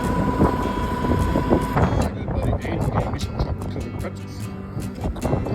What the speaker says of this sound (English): it's been so daggum windy here